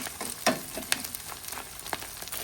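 Beef pieces frying in a pan for a dry-style spiced beef dish, giving a dense, close crackling sizzle with sharp pops and occasional spatters throughout, and no talking.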